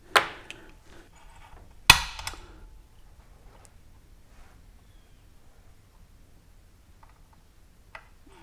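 Two sharp, isolated taps of a center punch striking metal, a couple of seconds apart, then near silence and one faint final tick.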